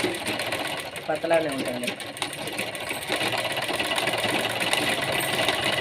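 A sewing machine runs steadily, stitching a half-inch double-folded hem on a skirt, its close mechanical whir continuing under a voice.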